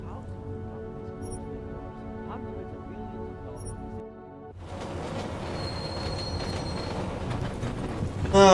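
Deus Ex train running on rails, a steady rumble with long tonal wheel squeal building after a brief lull, loud and continuous, ending in a sharp screech.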